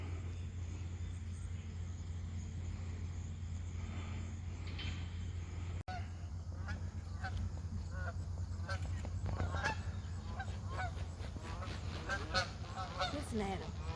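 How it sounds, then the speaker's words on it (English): Geese honk in a lakeshore setting on Lake St. Clair, their calls scattered and irregular, moderately distant over steady low wind rumble, with a brief dropout partway through. "Look at these geese all lined up in a row right here."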